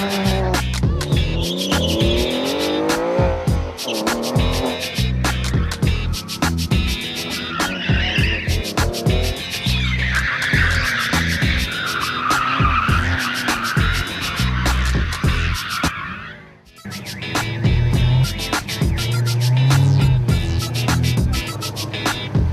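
Subaru STI rally car on a 2006 New South Wales rally stage, engine roaring loud and close with repeated tire squeal and skidding over a busy mix, briefly dipping before surging again.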